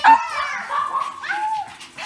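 A small, sick griffon-type dog (Petit Brabançon) whimpers and yips in thin, wavering high cries, close by and fairly loud across a couple of seconds.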